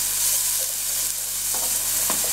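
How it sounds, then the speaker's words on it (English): Onions sweating in olive oil in a pan over low heat, a steady soft sizzle running throughout, with a few light scrapes and stirring taps near the end and no talking. "Now I'm cooking the onions to add to these meatballs."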